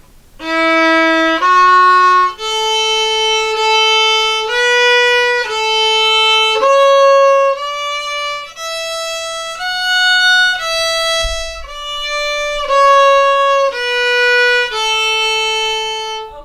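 A solo fiddle plays a simple melody from "Old Joe Clark" in sustained bowed notes, one after another at an even pace, clear and close with no voices.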